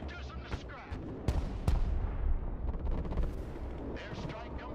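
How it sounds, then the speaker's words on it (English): An F-35 airstrike in a video game drops bombs that set off deep, rumbling explosions, with a couple of sharp booms over a heavy roar of battle and a voice talking in the background. "Okay, F-35, we're going to drop a bomb there. Ready, pickle. Let's reduce them to scrap."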